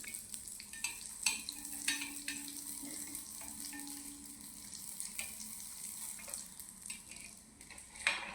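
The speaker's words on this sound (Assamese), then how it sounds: "পিঠাটো অলপ ৰঙচুৱা হ'লেকৈ ভাজি ল'ম" Assamese bor pitha, rice-flour fritters, fry in hot oil with a steady close sizzle, punctuated by scattered pops and occasional scrapes of a spatula.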